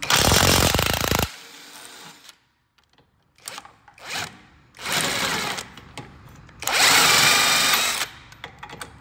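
Loud bursts of a pneumatic impact wrench in a car repair shop working on a BMW G31, three long rattling runs separated by pauses with shorter clanks and handling noise in between.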